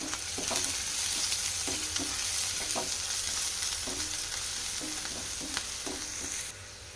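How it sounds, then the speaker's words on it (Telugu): Green chillies and onion fry in a pan for a potato roll filling, with a steady close sizzle and repeated spoon scrapes as the mix is stirred. "వన్ టీ స్పూన్ పచ్చిమిర్చి ఆనియన్ వేస్తాను కలుపుకోవాలి"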